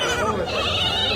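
Goats bleat continuously and loudly at a rural village livestock market, several animals calling over one another close by with a busy crowd murmur underneath.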